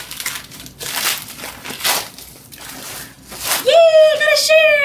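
Packaging from a mailed parcel is pulled and torn open by hand, giving repeated loud crinkling and ripping bursts up close, followed by a voice talking briefly near the end.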